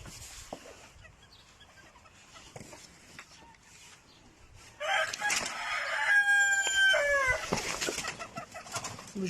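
Ardennaise chickens in a henhouse, with a rooster crowing loudly and close by over steady clucking and chattering hens, quieter at first and then swelling into a dense, busy flock chorus.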